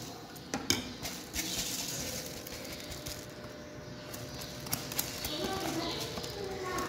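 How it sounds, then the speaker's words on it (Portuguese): Washed rice being stirred into a pot of salted water gives light scraping and clinking of a utensil against the pot, close and fairly quiet, while someone talks. "Vou misturar aqui dentro."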